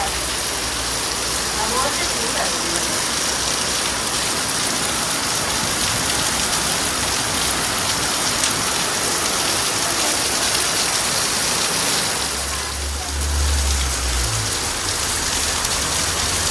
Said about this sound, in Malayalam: ആ സമയത്താണ് മഴ സ്റ്റാർട്ട് ചെയ്തത്